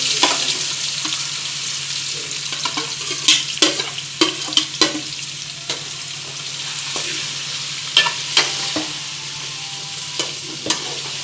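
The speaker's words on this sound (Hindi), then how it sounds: "अभी चिकन फ्राई होगा। तेज आंच पे।" Chicken frying in oil in a kadai over high heat sizzles steadily while a spatula strikes and scrapes the pan in irregular clusters of sharp clacks.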